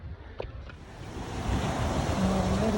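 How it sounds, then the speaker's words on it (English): Ocean waves at a cove at San Miguel La Selva roll in as a broad, steady wash of surf that builds louder over a few seconds, with wind noise on the microphone. "The ocean's just sitting right there"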